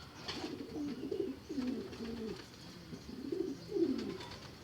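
Pigeons coo in soft, repeated rolling phrases, close by and moderately quiet, with a few low bursts separated by short pauses and no speech.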